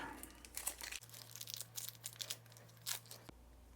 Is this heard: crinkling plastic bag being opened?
yes